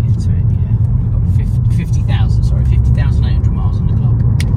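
Ford Focus 2.0T Ecoboost ST-3 estate car driving on a road, with a steady, loud low rumble of engine and road noise heard from inside the cabin while a person talks over it.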